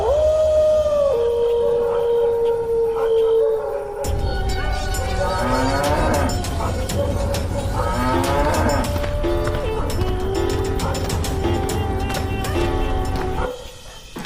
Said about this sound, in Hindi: घर पहुंचकर गौरी दर्द में फिर से रंभाते हुए भगवान को याद करती है